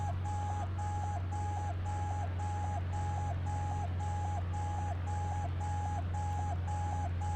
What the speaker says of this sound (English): I'll kill the beeping soon